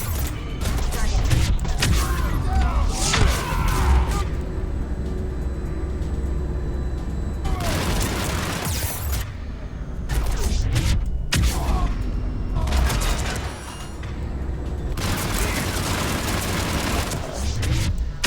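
Bursts of grenade explosions and rapid gunfire from Mass Effect 3 combat, loud and dense, with booms and fusillades continuing throughout and talk faintly mixed in.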